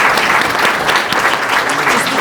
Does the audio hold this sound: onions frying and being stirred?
no